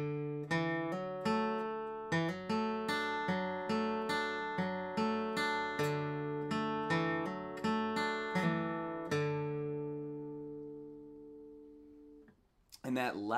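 Flatpicked acoustic guitar crosspicking passage played straight through, a long steady stream of crisp picked notes ending on a ringing low C that fades out, close and solo before a voice starts at the end.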